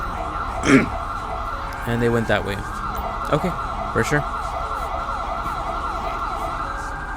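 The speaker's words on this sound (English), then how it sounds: "And as you can see, you have an ambulance coming." In the GTA V police mod LSPDFR, an ambulance siren wails steadily in the background, joined by a few short horn-like blasts, while someone talks over it.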